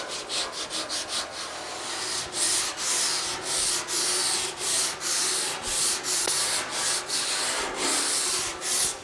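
Hand sanding over welded, ground seams on a GTO fender, a close, rhythmic rasping with repeated back-and-forth strokes, fast at first then steadier.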